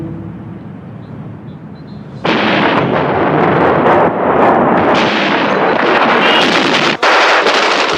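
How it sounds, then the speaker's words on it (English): A heavy, sustained roar of tank cannon fire shelling the White House in Moscow in 1993 bursts in abruptly and stays loud and continuous, with a brief dip near the end. "The president's tanks will reduce to a charred hulk the same White House he had once stood on another tank to defend."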